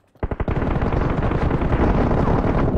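Loud automatic gunfire from the BGMI battle royale mobile game, a few sharp opening shots giving way to a dense, continuous roar of rapid fire and bullet impacts, close and without talk.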